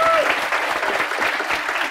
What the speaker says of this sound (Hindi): इन दोनों का आप फिर से एक बार ताली बजा के स्वागत करें